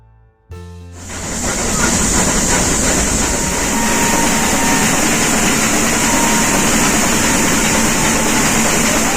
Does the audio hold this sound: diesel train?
yes